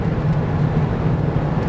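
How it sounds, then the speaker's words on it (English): Inside a moving car, a steady low rumble of road and engine noise fills the cabin, even and continuous across the short stretch with no speech. "sorry, I'm driving"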